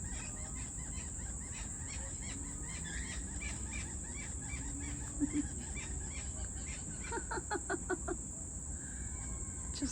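King parrots call from a golden rain tree in a garden, with repeated sharp, chirping notes at mid distance that cluster into a quicker run near the end, over a steady high insect-like hum.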